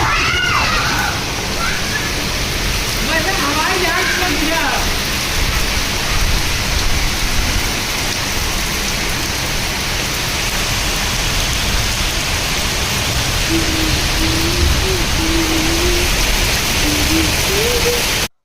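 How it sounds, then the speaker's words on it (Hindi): Heavy rain falls steadily and hard, a loud, dense, unbroken wash of drumming on surfaces that lasts throughout, with faint traces of distant voices beneath it. "खूब तेज़ बारिश हो रही थी"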